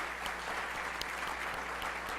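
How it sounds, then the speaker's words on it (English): An audience at an evening lecture in a cyber lecture series at Hood College applauds steadily, a dense wash of many hands clapping at an even level from start to finish with no voices standing out. "can you join me in a round of applause for her?"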